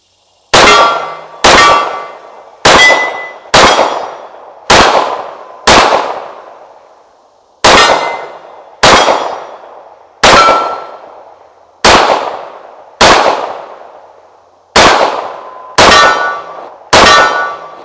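An FN FNX 45 pistol fires about fifteen loud, sharp reports one after another, each with a ringing, decaying tail. Most shots come at an even pace, with a couple of short gaps between them.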